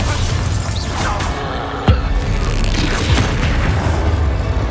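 A Bombarda blasting spell explodes in Hogwarts Legacy during the fight against Ranrok: a sharp, loud blast about midway through a dense, continuous roar of game combat.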